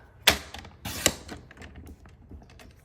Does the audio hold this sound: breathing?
no